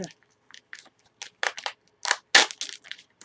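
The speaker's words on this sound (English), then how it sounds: "If I'm going to get this thing open, I'm going to need the scissors." Scissors cut into plastic packaging around kabanosy sausages, giving close, irregular bursts of crinkling and snipping separated by short pauses.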